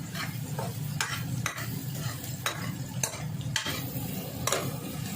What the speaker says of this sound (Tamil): இது வதங்கிட்டு இருக்கும்போது இது நல்லா வதங்கணும்